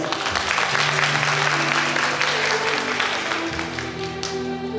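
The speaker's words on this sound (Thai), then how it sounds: "ขอเสียงปรบมือหน่อยครับ" A crowd at a Thai AED life-support training opening claps and applauds steadily, while music or a voice carries on underneath.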